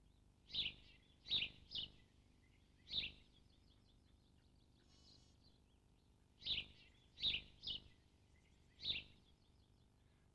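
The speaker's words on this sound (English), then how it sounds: "The familiar chirping call of the house sparrow can be heard from almost every kitchen and bedroom in the country." A house sparrow gives sharp, repeated chirps, mostly in loose bursts of two or three clean notes with quiet gaps between, fairly close and standing alone against a faint background.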